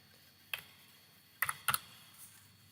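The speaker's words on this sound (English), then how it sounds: "Type each one in." Typing on a computer keyboard: a few sparse, close key clicks, a single tap followed by a quick cluster of two or three strokes, set against a quiet room background.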